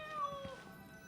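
A cat meows from behind a painting in a video game, a single short cry with a rising then falling tone, muffled and faint, heard on its own.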